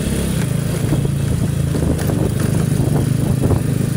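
RUSI Sigma 250 motorcycle engine runs with a steady, even pulsing thrum at close range, a continuous buzzy idle-like drone holding constant with no voices over it.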